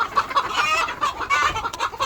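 Hens, including tiger chickens, cluck repeatedly in a busy farmyard flock, with overlapping calls close by and steady through the moment.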